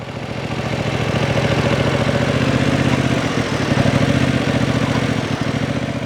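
A 2025 Yamaha MT-07 Y-AMT motorcycle runs smoothly at very low speed, its twin-cylinder engine giving a close, steady pulsing rumble with slight throttle swells, no talk heard.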